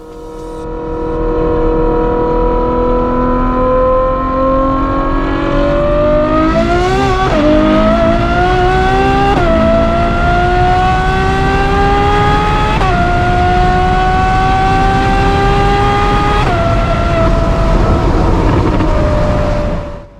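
A Ferrari Enzo V12 engine runs loud and close, its pitch climbing steadily through several rising pulls that each end in a quick drop at the shift, like a race car accelerating through the gears, with no talking.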